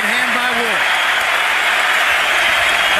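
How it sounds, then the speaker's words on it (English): A dense, loud arena crowd at the Kovalev vs Ward boxing match cheers and applauds without a break, while a commentator speaks over the roar. "Crowd loves it."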